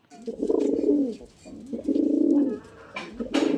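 Pigeons coo in close, deep, rolling phrases, two long bursts with brief pauses between, followed by a shorter coo at the end.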